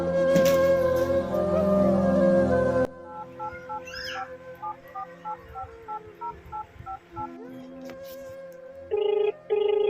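A telephone call is placed: a burst of loud noise gives way to a series of short, evenly spaced dialing or ringback tones, followed by two brief ringing bursts near the end, with no speech.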